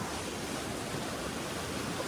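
The flooded Kalsiya nala stream at Kathgodam carries rushing water that makes a continuous broadband roar, steady and fairly distant, with no voices over it.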